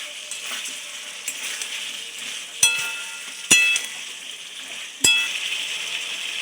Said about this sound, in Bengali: চিকেন পকোড়াটা দিয়ে দিলাম দিয়ে আমি এটা ভালো করে একটু কষিয়ে নেব